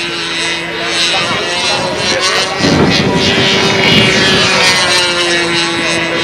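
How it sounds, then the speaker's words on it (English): A two-cycle model plane flying at a windy world championship, its high buzzing engine drone loud and steady, rising and shifting in pitch as it passes, with wind noise and some voices in the background. "Flying a two-cycle plane."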